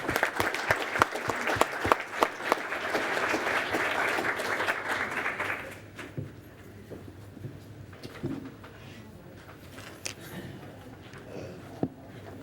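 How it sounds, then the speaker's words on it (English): A room at a city council meeting bursts into applause, a dense patter of many hands clapping for about six seconds before fading to scattered claps and quiet room noise. "Once again, give them a round of applause."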